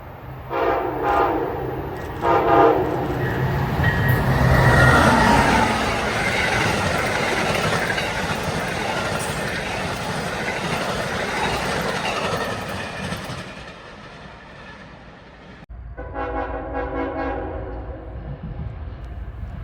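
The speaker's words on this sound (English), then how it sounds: "which gives us a good view of our next train, which would be Amtrak heading southbound" Amtrak passenger train heading southbound past Collier Yard, sounding its horn in several loud blasts over the steady roar and rumble of the passing cars, which then fades into quieter clatter and a closing horn sequence.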